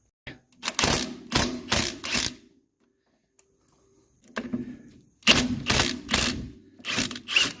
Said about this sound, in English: So we need to get a wrench to get those out.